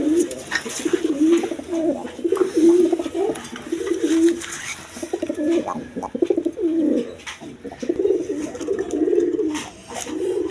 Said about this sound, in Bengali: এখানে এক পেয়ার কবুতর আছে দেখেন হাই ফ্লাইং গিরিবাস কবুতর